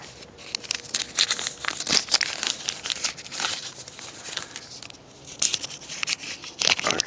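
A small paper slip drawn for a picnic-table challenge is unfolded and crinkled close by, a soft, irregular rustling and crackling that continues for several seconds with no talk.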